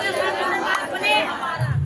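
Crowd at a road sit-in protest in Laldhang near Kotdwar chanting a slogan together, loud massed voices in a continuous, shouted unison that swells across the moment.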